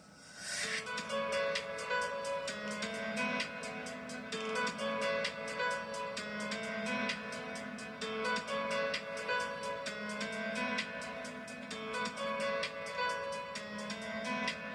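A steady piano-led music track plays continuously at even volume, opening with a swelling reversed sound that rushes in before the beat settles.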